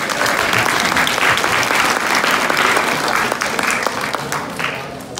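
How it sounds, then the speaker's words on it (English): A school audience gives loud, sustained applause for its Cougars football team, dense clapping with crowd noise holding steady throughout before easing slightly at the end. "Please give a round of applause for the team's continued effort."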